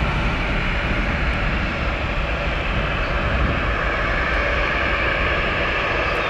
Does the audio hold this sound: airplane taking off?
yes